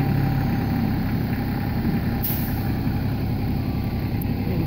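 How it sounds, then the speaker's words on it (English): A heavy tractor engine running at a trench being filled, a loud steady diesel rumble close by, with a brief hiss partway through. "here comes the Mickelson tractor."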